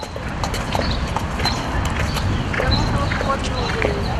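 Horse hooves clip-clopping at an equestrian setting, a run of irregular knocks under steady background noise and a voice, moderately close.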